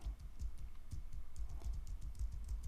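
Arrow keys tapped on a computer keyboard to move between pages of a PDF, a steady run of soft, close clicks about every quarter second, with no voices over them.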